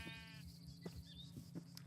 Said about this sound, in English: there is the second sheep